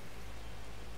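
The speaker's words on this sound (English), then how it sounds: "Cold rain." Steady rain falls in the farming video game Farming Simulator 22, a dense, even hiss that fills the whole second at constant loudness with no voices.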